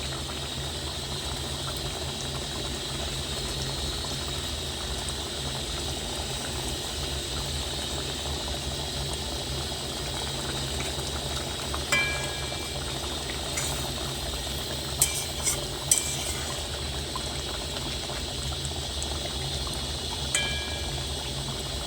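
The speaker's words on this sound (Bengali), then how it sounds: "তো এটা একটু ভালো করে ফুটে যাক" Koi and pabda fish curry simmers in a pan with a steady, even bubbling hiss, continuous and close, marked by a few small pops and clicks.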